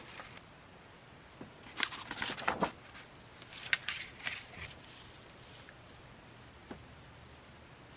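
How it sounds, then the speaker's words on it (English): Embossing powder is cleaned up from a card-making surface: soft brushing and rustling strokes with small taps, fairly close and quiet, in bursts around a busier middle stretch and then thinning out. "now I'm going to clean up my embossing powder."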